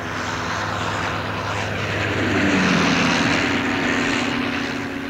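Steady drone of a rotary-engine biplane, loud and continuous, with a slight rise in pitch midway; no voices.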